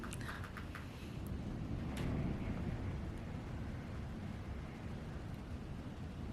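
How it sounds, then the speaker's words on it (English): Wind from a severe snowstorm roars steadily outside, heard from indoors as a low, faint, continuous rumble with slight gusting swells and no talk. "you're just hearing the wind from the storm"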